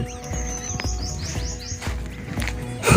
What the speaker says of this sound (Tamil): பறவையோட சவுண்டு இது புதுசாக தான் இருக்கு நண்பா நமக்கு